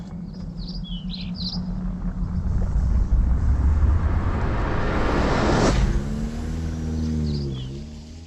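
A car accelerates on a road in a rising, building rumble that swells to a peak and then fades. Birds chirp faintly at the start, and a voice is heard near the end.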